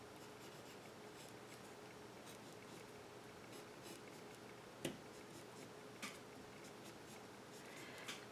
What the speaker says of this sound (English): And now we can draw the rest of the face.